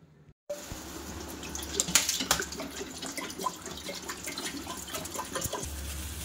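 Water runs steadily from a tap into a cooking pot for pasta, a continuous splashing stream with a few brighter splashes, fairly close and alone without voices.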